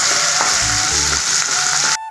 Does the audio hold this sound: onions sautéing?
yes